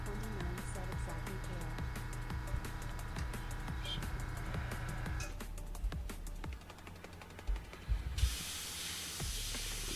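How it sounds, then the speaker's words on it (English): A spray can fires onto a paper towel with a steady hiss that begins partway through and cuts off abruptly, close and prominent, after a stretch of softer background noise with a voice. "Now so it sprays fine on the paper towel."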